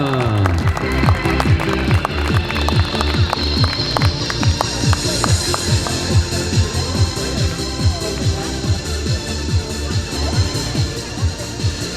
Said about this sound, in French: tonnerre d'applaudissements pour Hugo, pour Alexandra, Hugo, les juniors